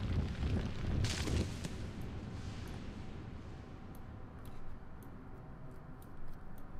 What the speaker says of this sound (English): Stay away from those big explosions.